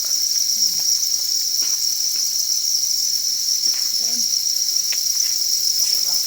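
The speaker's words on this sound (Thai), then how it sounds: "เลี้ยงง่ายนะครับ เลี้ยงจิ้งหรีด" Dense, steady chirping from farmed crickets fills the clip, a continuous high-pitched trill, with faint scattered knocks and movement underneath.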